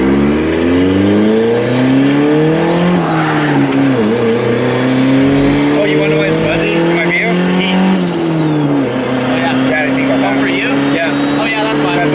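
A turbocharged Honda Civic with a D16 engine revs hard and accelerates up through the gears, loud and close, its pitch rising and dropping between shifts while people talk underneath.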